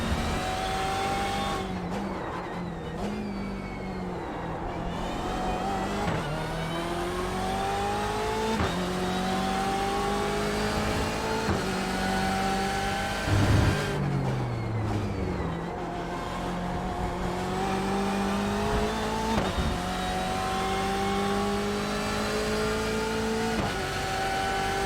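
A BMW race car engine in iRacing at Interlagos, revving and shifting steadily through gears for a lap, with rising and falling engine tones, occasional downshift dips and faint tire noise, no talking.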